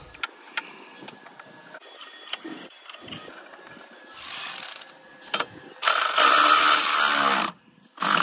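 A 13 mm socket wrench works the battery terminal bolt on a 2013 Mercedes-Benz E350 (W212), with close metallic clicks and ratcheting followed by longer bursts of steady mechanical whirring and clatter.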